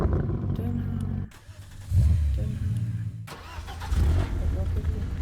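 A Rocket League car engine from a Fortnite locker preview, a mid-pitched video game engine that starts, revs in two swelling bursts and idles between them, heard up close with someone talking over it.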